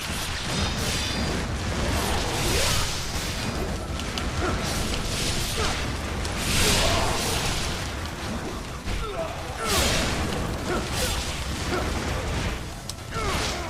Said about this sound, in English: No, there's too many explosions.